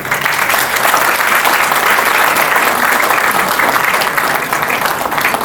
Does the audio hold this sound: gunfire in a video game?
no